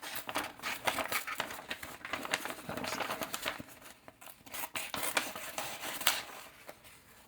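A razor-sharp blade from a Hacksmith hammer slices through hand-held paper, giving a continuous dry rasping and crinkling with scattered sharp ticks as the sheet tears and rustles, fairly close and without talk.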